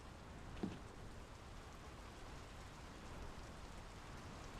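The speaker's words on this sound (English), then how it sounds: "The rain's picking up." Steady rain falls in the video game Draugen, an even, hissing wash of drops that stays constant and fairly soft throughout, with no voices over it.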